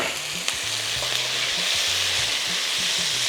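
Chicken fries in a pan with a constant, loud sizzle while a utensil scrapes and stirs it in uneven strokes, close by, with no speaking.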